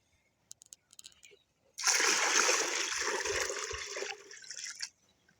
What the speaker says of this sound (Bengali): সবগুলো ঢেলে দেবো ঢেলে মিস করে নেবো একবারে